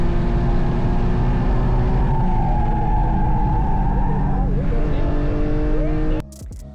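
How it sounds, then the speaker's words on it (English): A car nearly spins out at the carousel corner of a track, its engine droning loud and steady as tires squeal in rising, wavering tones before the sound cuts off abruptly. "Too much throttle and wheel can result in moments like this, with me almost spinning out at the carousel"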